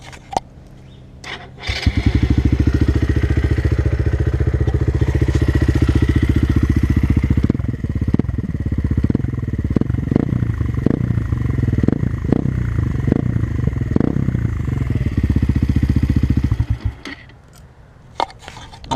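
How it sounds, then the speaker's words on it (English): A Sinnis Apache 125 motorcycle with a Lextech hexagonal exhaust starts and idles with a deep, steady throbbing exhaust note, close and loud, with a few blips before it cuts off. "this is the Lextech hexagonal exhaust. It sounds really nice"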